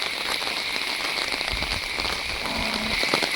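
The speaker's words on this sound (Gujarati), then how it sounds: "આજે પહેલી જ વરસાદ પડે છે" Steady rain of the first monsoon shower in Gujarat patters on surfaces, a dense even hiss with scattered close drips, nearby and continuous throughout.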